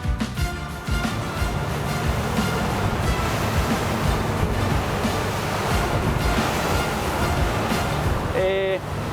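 A SACS Rebel 55 open motor yacht running at full throttle, around 2,450 RPM, over waves: loud continuous engine roar mixed with rushing water, surf wash and wind buffeting, with a short electronic beep near the end.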